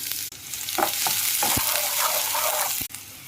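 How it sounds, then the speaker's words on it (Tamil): Cumin seeds and onion frying in oil in a pan, a continuous close sizzle broken by several stirring clinks and scrapes, with no one talking. "பேன் வச்சு ஆயில் போட்டுக்கலாம். கொஞ்சோண்டு சீரகம், ஆனியன் ஆட் பண்ணிக்கலாம்"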